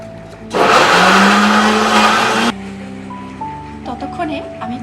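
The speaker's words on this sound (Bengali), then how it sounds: "দিয়ে দেবো একটা বড় সাইজের পেঁয়াজ আর টমেটো, এটাকে আমি মিক্স করে নেব।" A mixer grinder blending a large onion and tomato into paste for chicken do pyaza, a loud whirring burst of about two seconds that stops abruptly, followed by quieter kitchen background.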